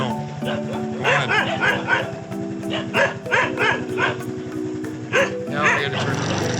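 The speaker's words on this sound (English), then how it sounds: "Don't worry about the fucking dog." A dog barks repeatedly on a rural Thai back road in Chonburi, in yapping bursts over the steady drone of a Honda Wave motorbike engine, with a voice speaking briefly.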